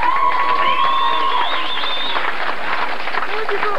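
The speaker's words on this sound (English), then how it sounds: "All the terrible shouting and cheering" Crowd shouting and cheering at a 1988 march for Jesus, loud and close, with whoops, whistles and clapping merging into a continuous roar.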